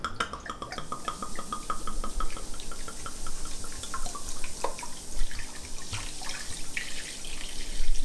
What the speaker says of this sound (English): you're going to pour the entire bottle of wine